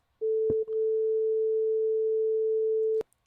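A steady, pure 440 Hz sine-wave test tone plays loud and constant for nearly three seconds, with a brief click near its start and an abrupt cutoff at the end.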